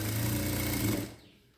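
A sewing machine stitches a half-inch seam joining the shoulders of a blouse, a steady close mechanical whir running for about a second before cutting off and fading away.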